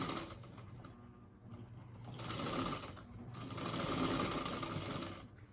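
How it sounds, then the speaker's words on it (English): A sewing machine sews over a seam while fabric is eased through, giving a quiet whirring hum that swells in two longer runs and pauses briefly between them. "I sew to my pin, I stop, pull it out, and then sew over my seam."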